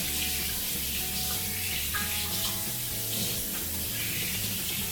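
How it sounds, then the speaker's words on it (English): Warm water runs steadily from a kitchen tap in a broad, continuous hiss that fills the clip at close range, with a faint low hum beneath and no talking. "Got a little warm water."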